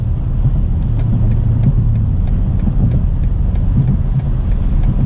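A 2022 BMW Alpina B8 accelerates hard while merging into traffic, its engine a steady, loud mid-pitched drone heard from inside the cabin, with road and tire noise beneath and no talking.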